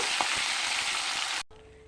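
Fish heads fry in hot oil with a loud, steady, close sizzle that cuts off abruptly near the end.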